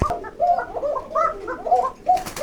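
A caged pigeon at a breeding loft coos repeatedly, with a run of soft, throaty, rolling calls in an uneven rhythm, close and fairly loud, alone without talk.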